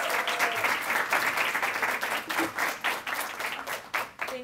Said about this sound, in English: if you can just join me in giving a round of applause